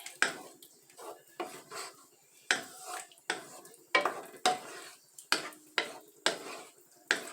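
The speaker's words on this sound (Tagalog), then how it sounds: "Haluin lang natin. Halo lang ng konti." A spoon stirs spaghetti sauce in a cooking pot, making a regular series of scraping, clinking strokes about every half second, close and moderately loud, with no talk.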